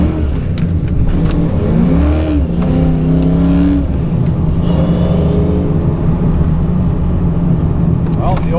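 A 1992 Ford Mustang 5.0 LX notchback with a V8 engine revs up and accelerates hard, its rising engine note loud and close before settling into a steady drive rumble, with a brief jangle of keys.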